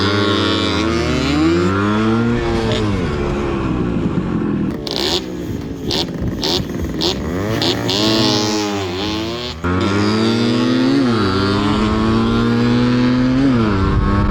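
Old-school two-stroke motorcycles rev hard at a drag race exhibition, loud buzzing engines sweeping up and down in pitch through repeated gear changes, close and continuous.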